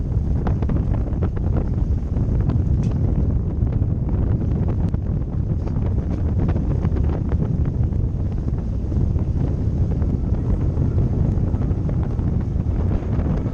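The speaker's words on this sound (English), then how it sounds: "It is windy out here today." Strong wind over open water near a canal mouth roars and buffets the microphone continuously, a loud, dense rumble with gusty surges throughout and no voices.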